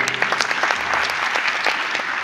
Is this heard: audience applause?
yes